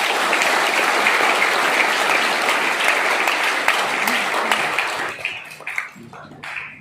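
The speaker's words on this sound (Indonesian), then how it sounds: "Berikan tepuk tangan untuk Tuhan Yesus." A church congregation applauds at a New Year 2021 sermon, loud sustained clapping from a full room that thins out and fades over the last couple of seconds into scattered claps.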